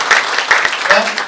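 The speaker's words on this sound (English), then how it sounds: "Please applaud for him." Brief burst of audience applause at an HR excellence awards ceremony, fairly loud close clapping lasting only a moment with voices overlapping.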